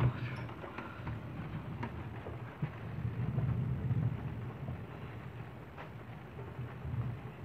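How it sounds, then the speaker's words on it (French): A heavy summer thunderstorm in Villers-Bocage, Normandy, with a low, continuous rumble of rolling thunder over steady rain, a few soft knocks scattered through and faint voices in the background. "L'orage de la mort là."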